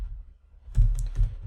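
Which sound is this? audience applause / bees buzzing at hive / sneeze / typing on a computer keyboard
typing on a computer keyboard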